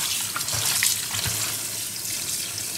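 Cold tap water runs steadily over lamb tripe in a kitchen sink, a continuous close splashing stream with small surges as the tripe is rinsed.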